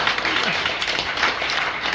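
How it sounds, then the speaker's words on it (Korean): A church congregation bursts into brief applause during a Sunday service, with dense, even clapping for a couple of seconds. "박수해주세요."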